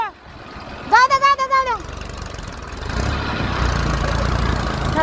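Tractor engine idling near a cattle water trough on a farm, a low rumble that builds and grows louder after a speaking voice fades.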